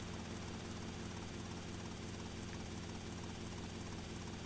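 A helicopter in the video game GTA: Vice City thrums as a steady, unbroken rotor and engine drone, quiet and constant throughout with no speech.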